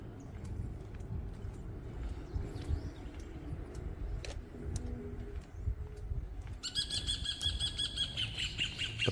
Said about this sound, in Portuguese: Olha o canto dos pássaros, que legal.